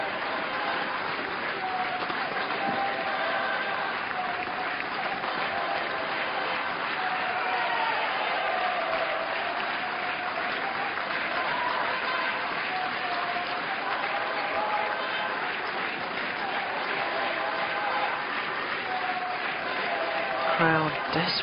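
A crowd at a 2008 Japan Open table tennis doubles match keeps up a steady, continuous wash of applause and cheering, with a commentator's voice running faintly underneath throughout.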